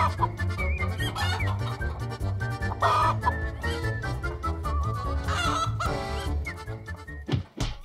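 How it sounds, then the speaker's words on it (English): Chickens being fed give loud, busy clucking and squawks, close and overlapping, with a bed of music running underneath throughout. "and I fed it to my chickens."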